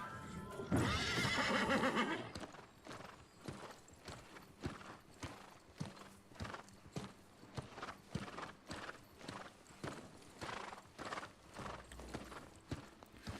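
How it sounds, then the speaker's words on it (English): Horse hooves clip-clop at a steady trotting rhythm in the New World video game, preceded by a loud whinny, the hoofbeats quiet but clear and evenly repeated throughout. "It's a good thing I have a horse"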